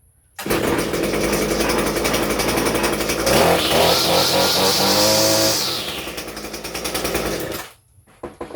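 An Echo SRM 230 string trimmer's small two-stroke engine fires up and runs, a loud close rattling buzz that surges higher in the middle before settling and cutting out after about seven seconds.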